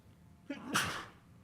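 A single sharp sneeze bursts out close to the microphone, a brief in-breath followed by a loud explosive exhale, then quiet room tone.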